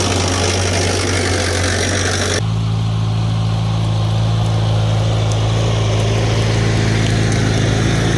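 A Farmall tractor engine runs steadily while mowing, a loud close low drone that shifts to a deeper, fuller pitch a couple of seconds in and then holds a constant heavy rumble throughout.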